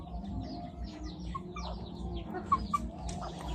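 Chickens cluck and murmur close by, with a couple of sharper bird calls near the end over a low steady background rumble.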